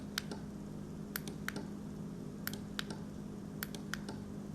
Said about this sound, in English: You can hear the relay clicking no matter how many times I press it